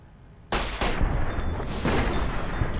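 A gunshot in Fallout: New Vegas, played on screen: a loud, close blast that starts abruptly, followed by a second shot about a quarter second later and a long, dense, rumbling echo.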